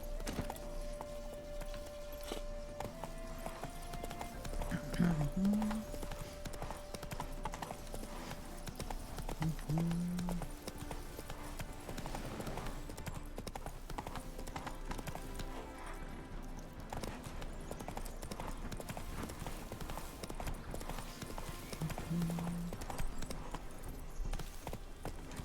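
Hooves of Roach, the horse in The Witcher 3 Next-Gen, clip-clop steadily through a game scene, with brief low snorts or whinnies around a few points and constant background music and ambience.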